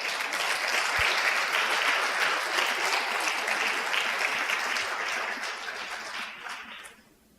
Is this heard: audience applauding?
yes